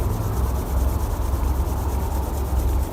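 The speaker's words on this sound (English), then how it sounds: "rub your hands together vigorously" Two hands rub together vigorously in a steady, continuous dry friction hiss, close and loud, with no one talking over it.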